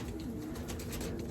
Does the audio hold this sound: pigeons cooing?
yes